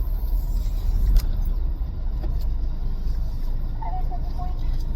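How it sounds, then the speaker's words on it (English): Cars idle in a McDonald's drive-thru line, a steady low engine rumble heard from inside a vehicle, with faint creaks and a brief knock partway through. "There's already a couple cars behind me."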